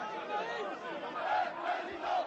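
A large crowd celebrating Jean-Marie Le Pen's electoral success on 1 May 2002 cheers and chants loudly in unison, a rolling wall of voices that swells in waves.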